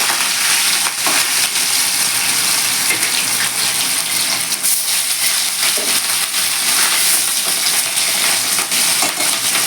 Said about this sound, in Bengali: মাছটাকে এভাবে উল্টে পাল্টে একটু ভেজে নিতে হবে